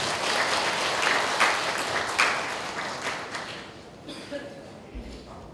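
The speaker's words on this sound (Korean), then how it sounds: "모두 박수로 환영해 주시기 바랍니다." Audience applause welcoming newly appointed regional women's association heads at a Buddhist world-peace prayer service, dense steady clapping from a large crowd that gradually thins and fades toward the end.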